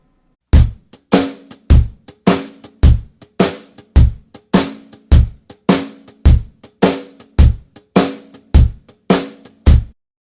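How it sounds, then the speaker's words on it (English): Drum kit playing a shuffle rhythm built from triplets with the middle note dropped, a steady loping long-short pattern of sharp hits and cymbal wash, close and loud, with no talking. "we can arrive at a shuffle rhythm, wherein the middle note of each of the 4 triplets is removed"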